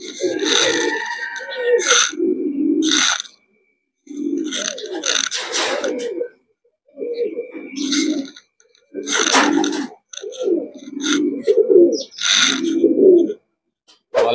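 Racing pigeons coo in repeated low, throaty bursts at close range, with pauses between phrases and some sharper clicks and chirps mixed in.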